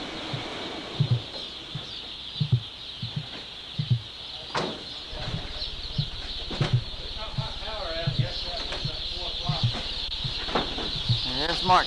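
Chickens inside a chicken house cluck in short, repeated bursts spread across the whole stretch, fairly close, while someone talks over them.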